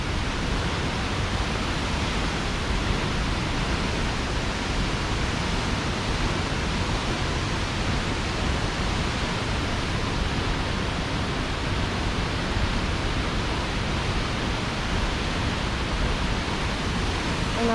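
Nungnung Waterfall in North Bali roars close by as a dense, steady broadband rush of falling water that holds unchanged throughout, with no voices heard over it.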